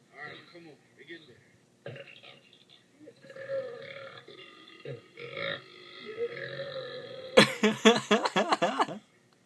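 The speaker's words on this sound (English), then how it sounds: "burp the word again" A loud, drawn-out burp bursts out near the end as part of a burp contest, after several seconds of quieter voices and throat sounds, with people talking beforehand.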